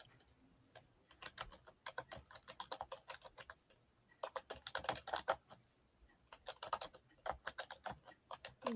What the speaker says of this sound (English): There she goes, typing away.